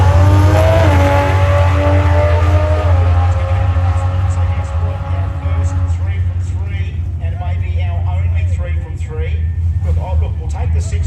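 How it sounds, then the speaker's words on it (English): Race cars, including a Nitrous Camaro, roar loudly at a motorsport track, a rising engine howl sweeping up in pitch then easing into a rough rumble while an announcer talks over it. "beside him the Nitrous Camaro of Rob Chaplin"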